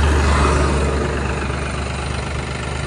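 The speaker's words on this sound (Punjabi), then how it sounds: "ਟਰਾਲੀਆਂ ਜਾ ਰਹੀਆਂ ਨੇ, ਉਹ ਦੇਖੋ" Tractor trolleys on a road in Punjab near Fatehgarh Sahib give a loud, continuous low engine rumble close by, steady throughout with no clear pass-by swell.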